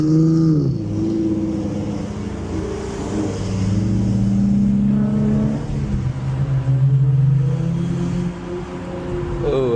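A 2014 Ford Mustang with the 3.7 engine revs while driving, a loud steady low drone rising and falling in pitch across the clip, close and continuous with no voices.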